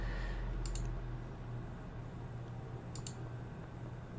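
Mouse clicks during a game of Civilization 5 on a computer, a couple of quick paired clicks spaced a few seconds apart over a low, steady hum, quiet and close, with no talking.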